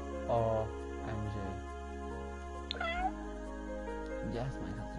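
Several in-game cat meows from The Sims 4, each short and tonal, spaced across the moment with a steady game hum underneath and a person speaking between them.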